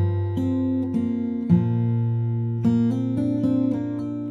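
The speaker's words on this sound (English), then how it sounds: "So guys, the first bar sounds like this." Fingerstyle acoustic guitar playing the opening bar of a song, plucked notes and two-string pairs ringing out close and clear, several distinct attacks over sustained bass.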